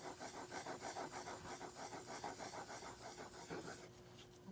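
Rhythmic rasping strokes of a steel plane iron being sharpened by hand with minimal equipment, close and fairly quiet, with even back-and-forth scrapes that stop shortly before the end.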